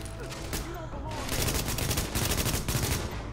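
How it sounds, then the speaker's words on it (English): Gunfire crackles in a burst during a firefight in the shooter video game Tom Clancy's The Division, rapid overlapping shots rattling out over a few seconds at moderate loudness. "Bit of blind fire, guys."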